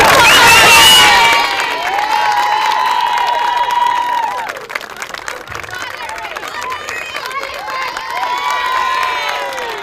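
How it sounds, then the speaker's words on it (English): A crowd at a camogie championship final in Western Australia cheers and applauds for the player of the match, with loud shouts and whistles at first, then a steady wash of clapping and excited voices. "I'm sure all the girls here will definitely give a big round of applause"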